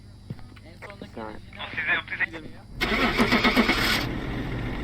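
A vehicle engine starts in the video game Phasmophobia, catching after a moment of talk and then settling into a steady mid-level hum. People talk just before the engine turns over.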